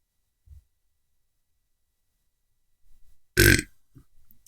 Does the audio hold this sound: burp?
yes